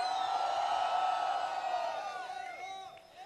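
Crowd of fans cheering and whooping at a film press conference fan meet in India, a steady roar of voices that slowly fades toward the end.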